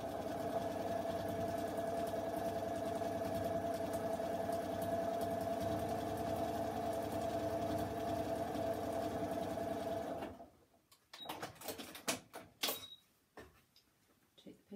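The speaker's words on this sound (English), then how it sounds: "I'm going to stitch through all those layers" A sewing machine runs steadily for about ten seconds, stitching through many layers of quilt fabric with a constant close mechanical whir. It then stops, leaving scattered clicks and handling noises.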